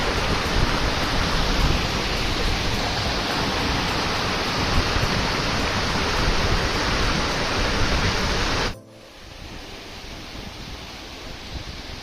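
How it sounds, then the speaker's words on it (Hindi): Waterfall at Namchi, Sikkim, roaring as a steady, loud, dense wash of falling water close by for about nine seconds, then dropping abruptly to a quieter distant rush. "देखिए पानी कैसे गिरते जा रहा है"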